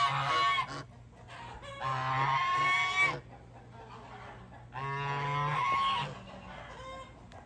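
A guarding goose honks in two loud, drawn-out bursts, each a run of harsh repeated calls, with quieter stretches between them and a low steady hum underneath.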